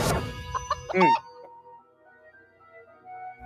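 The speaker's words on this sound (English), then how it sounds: "Chicken." A chicken clucks several times in quick, choppy bursts, close and fairly loud, followed by a quieter stretch with faint lingering tones.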